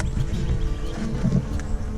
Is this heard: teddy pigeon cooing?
no